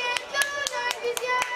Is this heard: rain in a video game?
no